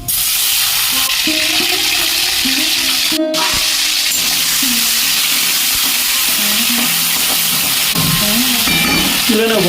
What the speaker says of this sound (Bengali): চিংড়িগুলো তেলে ছেড়ে দেবো।